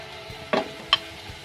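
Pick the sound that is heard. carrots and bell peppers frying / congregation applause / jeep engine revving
carrots and bell peppers frying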